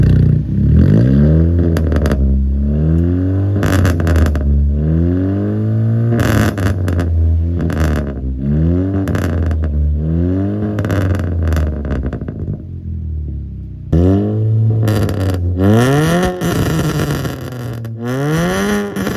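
A Honda Brio with a custom iron exhaust and custom down pipe and front pipe revs loudly and close, its engine climbing and falling in repeated aggressive throttle blips with a throaty, raspy tone.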